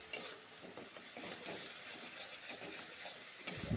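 Curry leaves, nigella seeds and garlic frying in oil, stirred steadily, with a close, continuous sizzle and frequent scraping strokes of a spatula in the pan, without any talking.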